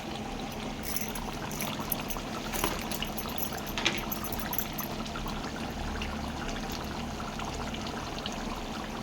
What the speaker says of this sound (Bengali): এটা ঝোল করার জন্য এটাতে আমি এবার জল দিই।